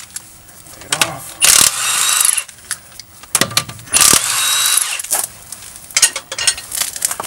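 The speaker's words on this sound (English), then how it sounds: "I have an impact. It's a 21 millimeter." Impact wrench hammering off 21 mm lug nuts on a Hyundai during a front brake job, several loud rattling bursts with short pauses between, up close in a garage.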